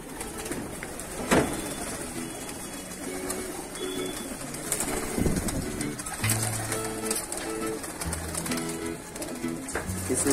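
Many pigeons, including Saharanpuri pigeons, coo continuously in low, overlapping murmurs inside a pigeon loft, with occasional wing flaps and bird calls in a busy enclosed space.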